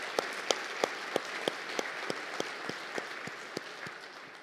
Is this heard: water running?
no